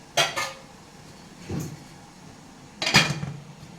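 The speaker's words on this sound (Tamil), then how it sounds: "இப்போ மூடி போட்டு" A metal lid is set onto an idli steamer pot cooking semiya idli. Three separate clattering metallic knocks sound quietly, each followed by a brief rattle, with no voices.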